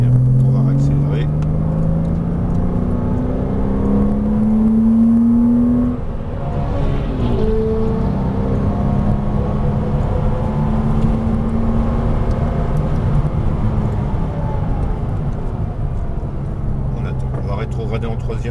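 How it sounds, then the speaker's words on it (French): A Porsche Cayman S is driven on a track at Fontenay-le-Comte, accelerating again in third gear. The loud in-cabin engine drone climbs in pitch and then holds steady, with people talking over it. "On reste en troisième. On va réaccélérer."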